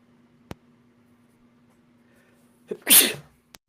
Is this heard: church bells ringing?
no